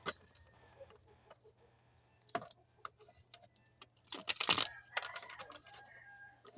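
Chickens clucking around a rural neighborhood, scattered soft clucks and short calls with a louder burst near the end, fairly close but modest in level, over a quiet background hum.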